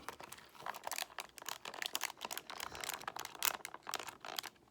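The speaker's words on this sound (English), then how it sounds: "a bunch of calculators here that I will be pressing down on their buttons and scratching the keys and then doing some tapping as well" Calculator buttons and keys are pressed, tapped and scratched up close, making quiet, dense clicks and scrapes in an uneven rhythm with no voice.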